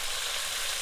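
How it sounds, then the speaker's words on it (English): Ground turkey for turkey pies fries in a pan with a steady, close sizzling hiss that holds unbroken through the short moment. "Keep frying it till it gets into a nice golden brown."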